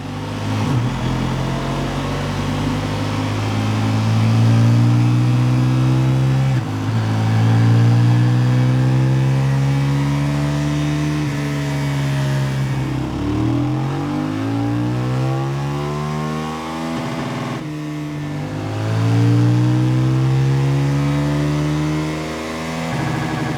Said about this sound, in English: We're going to get it run up on the dyno